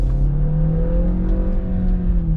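A 2021 Hyundai Tucson accelerates hard in sport mode, its engine droning loud and close with a steady rising hum and no voices over it.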